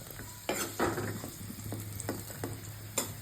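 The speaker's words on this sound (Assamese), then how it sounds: "এয়া আলু ভাজি কাঢ়িছোঁ দেই" Small potatoes fry in a pan with a constant soft sizzle. Sharp scrapes and clinks from stirring come through several times, close and fairly quiet, with no one speaking.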